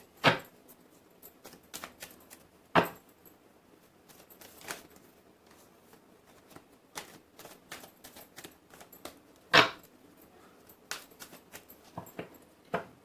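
Tarot cards are shuffled in a quiet room. Soft flicks and riffles sound close and faint, broken by a few sharper card snaps, with no talking.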